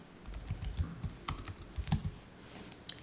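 Typing on a computer keyboard while entering a prompt, with a steady run of close key clicks and a few sharper, louder strikes, no voices.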